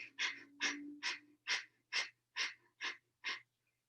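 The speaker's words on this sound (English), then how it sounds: "Breath of fire is an even inhale and exhale through the nose" Breath of fire yogic breathing through the nose: eight quick, even, forceful nasal breaths in a steady rhythm, close and clear, with no talking.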